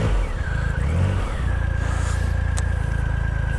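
A Triumph Rocket III motorcycle with stock exhaust pipes starts up and settles into a deep, steady, throbbing idle with a brief rev near the start, loud and close.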